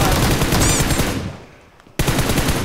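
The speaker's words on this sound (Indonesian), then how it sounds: "Ada tembakan di situ" Rapid automatic gunfire in the mobile battle-royale game PUBG Mobile: loud, dense bursts that thin out briefly and then return at full strength, with no talking.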